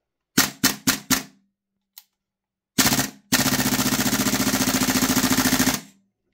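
A Tokyo Marui MWS airsoft rifle fed from a drum magazine on green gas fires four quick sharp cracks, then a pause, a single shot and a long rapid full-auto burst, loud and close with no talking.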